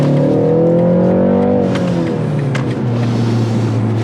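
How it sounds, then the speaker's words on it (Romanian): A BMW 330i xDrive exhaust sound played through the car's speakers drones with a deep, steady engine rumble that swells slightly, then settles into a lower, even tone. "Și se aude evacuarea."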